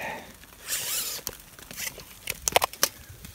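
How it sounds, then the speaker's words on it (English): A tape measure blade is drawn out outdoors during a winter snowstorm, a ragged zipping rasp near the mic followed by a few sharp ticks and clicks, with no talking. "let me get my tape measure"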